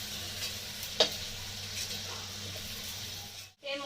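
Small shrimp fry in mustard oil with a steady, close sizzle, a single sharp clink of stirring, and a brief break in the sound near the end.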